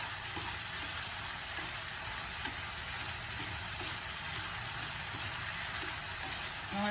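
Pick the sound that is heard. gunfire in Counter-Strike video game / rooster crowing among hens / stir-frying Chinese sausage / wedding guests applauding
stir-frying Chinese sausage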